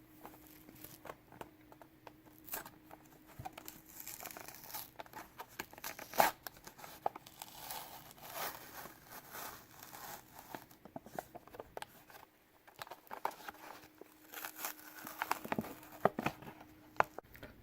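Packaging of a Cars 3 Jimmy Cables die-cast toy car being torn and crinkled open, with scattered tearing, rustling and tapping sounds, fairly quiet and close, with a brief louder knock midway.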